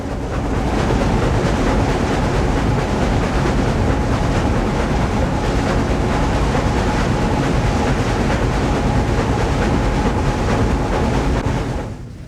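Union Pacific Challenger 3985 steam locomotive working upgrade on Cajon Pass with the throttle three-quarters open, a loud, steady, dense roar of exhaust and running gear heard from the cab, continuous throughout.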